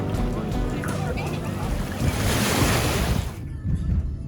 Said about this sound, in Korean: 사람은 적당히 많았고 파도는 세지 않았습니다.